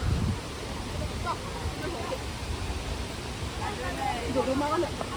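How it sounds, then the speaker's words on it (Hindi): Bhelughat waterfall at Dokmoka in Karbi Anglong, Assam, roars as a steady broadband rush that fills the whole clip, with people talking faintly over the falling water. "ये है भेलूघाट वाटरफॉल"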